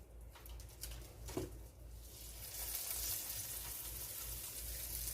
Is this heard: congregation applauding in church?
no